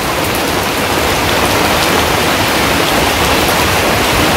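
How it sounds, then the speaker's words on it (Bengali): Heavy morning rain pours down in a Bangladeshi village, a loud, dense, unbroken hiss with no voices. "সকালবেলায় খুব বৃষ্টি নামছে আজকে।"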